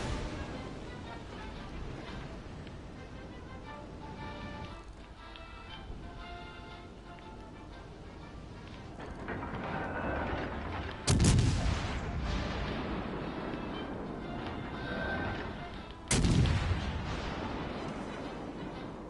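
16-inch naval guns fire in a video game, two heavy booming blasts several seconds apart rising over a rumbling battle backdrop.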